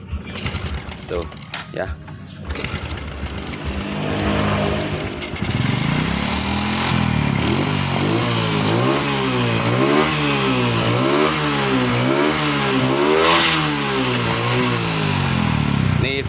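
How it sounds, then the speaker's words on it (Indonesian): A Honda Karisma motorcycle with a faulty regulator is cranked over by hand a few times, then its engine catches and runs with a steady, wavering putter close by, while someone speaks briefly over it. "Lalu kemudian kita coba engkol nih, kita engkol pakai tangan saja"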